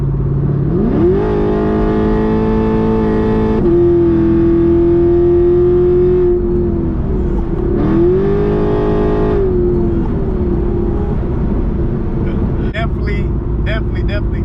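A Chevrolet Camaro engine running on E85 fuel revs up and holds high, drops, then revs again, loud and close, with people talking near the end.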